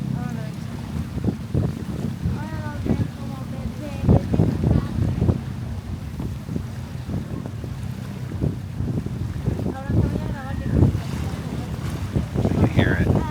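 A boat pushes through ice near the Statue of Liberty in New York, with a continuous loud rumble broken by repeated crunching and knocking bursts, mixed with wind buffeting the microphone and faint voices.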